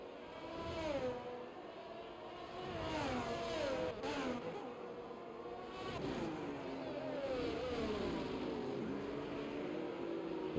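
Formula 1 race cars in the F1 2022 video game, on the Monza circuit in Italy, battle into a corner with high-pitched engines rising and falling through gear changes. Several cars overlap at a moderate distance, with some commentary faintly underneath.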